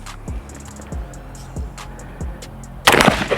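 An AR15 rifle fires about five spaced shots, each a sharp, punchy crack with a low thump, at a steady rhythm, ending in a burst of louder, harsher noise.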